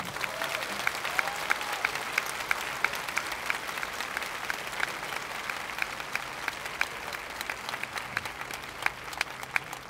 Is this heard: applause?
yes